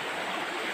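A river flows in a cool outdoor spot, a steady broadband rush of moving water filling the moment at moderate, unchanging loudness with no voices.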